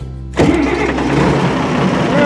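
A tractor engine used to run a grain auger on a farm cranks briefly, then catches with a sudden loud start and settles into a steady close-up idle.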